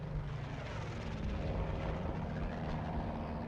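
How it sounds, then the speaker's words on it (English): A steady, droning World War II aircraft engine rumble in a video game fills the whole stretch, constant and fairly loud, like a plane passing overhead with no voices. "Well, that's the sound of a plane, but is it my plane or is it General's plane?"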